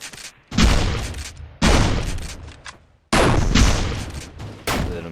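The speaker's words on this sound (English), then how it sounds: "With an amazing shotgun shot." Repeated loud shotgun blasts and sniper rifle shots from a 2v2 tournament finals video game match ring out in dense bursts, with brief gaps between volleys.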